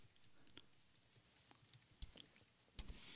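Someone types on a computer keyboard, entering a web address: a quiet run of light, irregular key clicks with a couple of sharper taps near the end, no voices.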